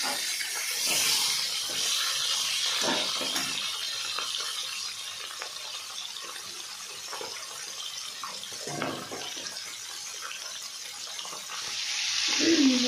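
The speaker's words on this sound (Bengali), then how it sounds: "এই মাথা দুটোকে সুন্দর করে এদিক ওদিক করে ভাজবো।" Silver carp fish heads fry in hot oil with a steady sizzling hiss, occasional spits and pops, and a louder surge of sizzle near the end.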